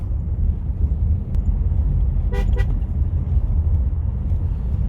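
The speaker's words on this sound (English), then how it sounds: "you probably find me honking, beeping before the corners a bit strange" Two short car horn toots from a Citroen C5 X7 before a corner sound in quick succession over the steady rumble of the moving car's engine and road noise on a rainy day.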